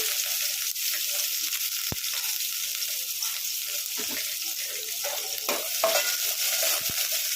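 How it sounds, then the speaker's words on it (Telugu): Sliced onions frying in a pan for Rayalaseema-style uggani, a steady loud sizzle running throughout with occasional stirring clicks and scrapes, no voices. "ఉల్లిపాయలు మంచిగా వేయించుకుందాము"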